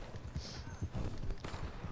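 Horse hooves clip-clopping in a western open-world video game, a steady close rhythm of hoof strikes on the ground with light background ambience.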